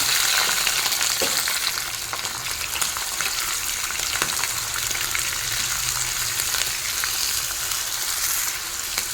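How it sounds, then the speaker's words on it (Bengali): Prawns dropped into hot oil with cardamom, clove and cinnamon over a high flame, a loud, dense, continuous sizzle and crackle close up, no talking. "তেল গরম হয়ে গেছে, এখন তেলের মধ্যে দিয়ে দেব চিংড়ি মাছ"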